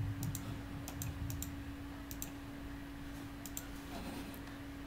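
Rapid clicking keystrokes on a computer keyboard come in short bursts with pauses between them, fairly close, over a faint steady hum, with no speech.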